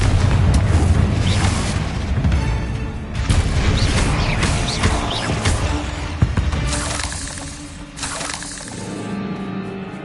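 Booming blasts from the Confringo explosive spell in Hogwarts Legacy, cast during a fight with spiders, erupt loud and dense over several seconds with crackling bursts and scattered impacts.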